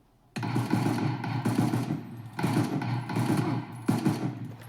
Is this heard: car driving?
no